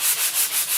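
Hand sanding of a painted pumpkin craft piece, a brisk close scratching rasp in about five even back-and-forth strokes, with no voices.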